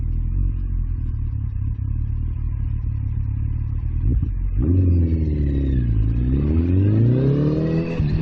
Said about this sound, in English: I can hear him revving his engine.